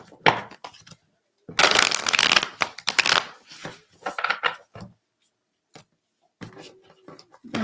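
Bursts of cards being shuffled, crisp riffling rustles coming in short rapid runs with pauses between, close to the microphone.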